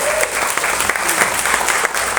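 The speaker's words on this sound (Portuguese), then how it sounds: "Uma salva de palmas para Jesus" Church congregation at a couples' talk applauding, a brisk burst of many hands clapping together, steady and fairly loud with a few voices mixed in.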